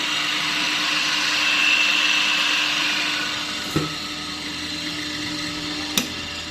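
A 10 kg oil spinner, a de-oiling centrifuge, runs with its lid closed, giving a loud, steady motor whir with a high whine. Two short knocks come near the end, and no one talks.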